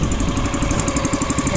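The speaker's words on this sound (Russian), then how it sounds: "Он со своим моторчиком." The small engine of a self-propelled Star MRB0850W crawler baler runs close by, with a steady, loud, rhythmic chugging throughout and no voices.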